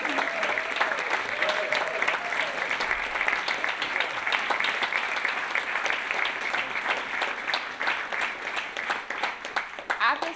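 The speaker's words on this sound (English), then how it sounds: "Huge round of applause." An audience applauds after an Earth celebration concert, sustained loud clapping from a crowd that continues throughout, with a voice briefly heard at the start.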